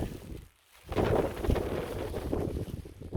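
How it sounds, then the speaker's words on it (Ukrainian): Gusty mountain wind on the trail to Hoverla, with light rain and fog, roars and buffets the microphone in low rumbling waves, dropping to a brief lull before picking up strongly again. "Трохи встановився дощ, вітер дує."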